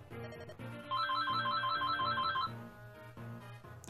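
A phone ringtone plays alone as a bright, looping electronic melody of quick repeated notes over a steady tone, loud and near, breaking into a video game session of Fire Emblem.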